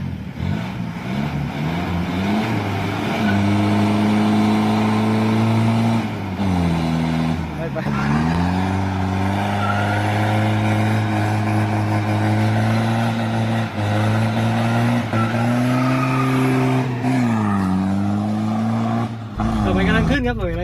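A modified Isuzu Dragon Eye Rodeo pickup with a 3100 engine and an F5 turbo being driven. Its loud engine drones steadily and repeatedly rises and falls in revs, with a voice heard at times.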